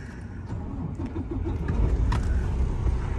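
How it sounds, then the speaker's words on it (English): A Class A truck with an automatic transmission is started from neutral during a CDL pre-trip inspection. A low rumble builds as the engine cranks and catches, rising to a steady idle, close and fairly loud, with no talking. "We're gonna start the truck up."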